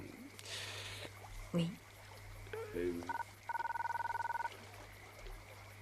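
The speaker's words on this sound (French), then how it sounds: "c'est le téléphone." A telephone rings in a French police drama, first an electronic trill, then a steady run of rapid ringing pulses near the end, coming after people talking.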